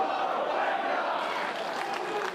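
A live wrestling crowd in Melbourne keeps up a dense, sustained roar of massed voices, loud and continuous throughout.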